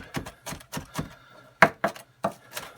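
Garlic is crushed into salt on a cutting board while preparing moose meat: close, rhythmic knife thuds, about ten firm taps, with short pauses between them.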